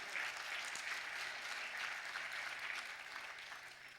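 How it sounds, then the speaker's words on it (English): An audience at the closing session of a national grantees conference claps in sustained, dense applause at moderate distance, holding steady before tapering slightly at the end. "how about a round of applause for all of those that weren't able to come"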